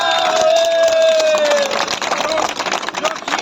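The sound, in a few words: applause and cheering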